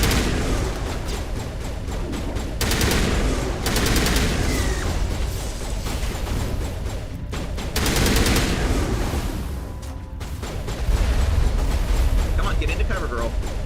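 Heavy gunfire in Mass Effect 2 in a burning area, dense repeated bursts of shots and booms sustained throughout, mixed with game noise and a voice talking over it.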